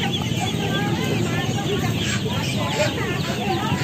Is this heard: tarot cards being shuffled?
no